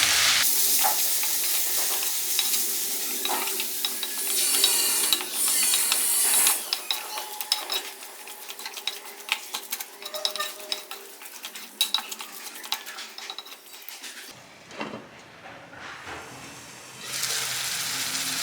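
Meal maker gongura masala with yogurt bubbles and sizzles in a pan, with frequent spoon scrapes and clinks of stirring over a close, uneven simmer that briefly drops away near the end; no speech.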